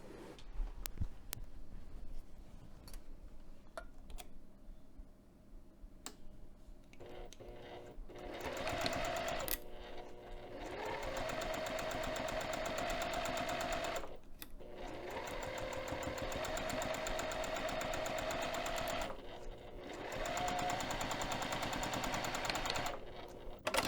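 A sewing machine stitches a pinned fabric pocket edge at a quarter-inch seam, running in several bursts of rapid whirring separated by short pauses, with quieter handling noises at the start.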